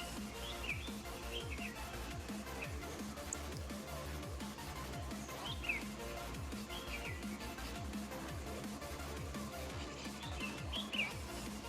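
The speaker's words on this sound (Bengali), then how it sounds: "আর পাখির কলরব।" Birds chirp and call repeatedly across the misty hills of Wayanad, North Kerala, with scattered tweets near and far over a low, steady ambient hum.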